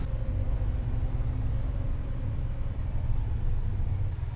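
A vehicle engine rumbles low and steady while driving away, a continuous close hum with no talking.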